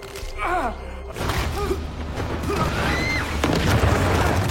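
An explosion in an action film, a dense rumbling roar that fills most of the clip, with gasping voices and rising cries above it.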